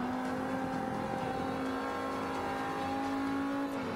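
A race car engine in the Forza Motorsport 5 driving game holds a steady, droning high-rev whine throughout, loud and continuous with a faint shift near the end.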